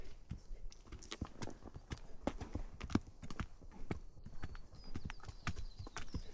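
A ridden horse named Tucker walks along a well-kept trail, its hooves clip-clopping in a steady, close, uneven rhythm that continues throughout with no talk over it.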